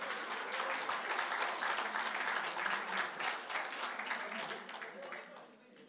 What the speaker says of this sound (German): Ein Applaus für alle, die Ja gesagt haben.